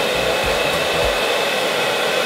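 A steady, loud whoosh of a hair dryer blowing air to float a ping pong ball, constant throughout with a faint low rumble early on and no voices.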